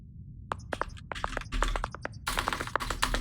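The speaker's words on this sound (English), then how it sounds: "Nice typing sounds here." Rapid keyboard typing in the video game Starfield, a burst of sharp key clicks in irregular rhythm, growing denser and louder toward the end, with no voices.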